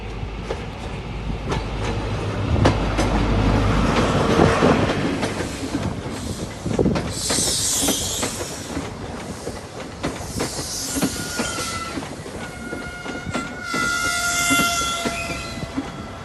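A GWR Flying Banana diesel railcar leaves Worcester Shrub Hill under semaphore signals: a heavy engine rumble builds, then gives way to wheel clatter, hissing and several ringing horn-like tones, fairly loud and steady throughout with no talk.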